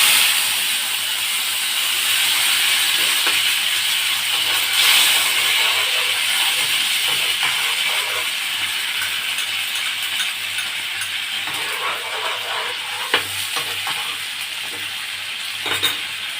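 Sliced onions fry in a hot pan with a broad, steady sizzle that runs throughout, broken by occasional light clinks and stirring scrapes, with no speech.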